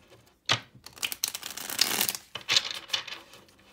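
Oracle cards are shuffled in a few quick, papery riffling bursts, close up, with brief pauses between them.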